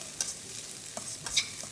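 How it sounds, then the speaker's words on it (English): Vegetables including courgettes, peppers and tenderstem broccoli stir-fried in oil in a hot wok, with close sizzling under several sharp scrapes and clinks of tongs moving the food, and no one talking. "And just keep the ingredients moving in the pan"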